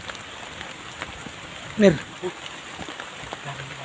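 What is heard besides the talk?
heavy rain pouring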